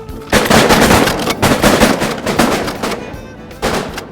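Several loud shotgun blasts go off in quick succession at a flock of teal ducks, overlapping and booming close by, then a final shot after a short pause, outdoors in Arkansas.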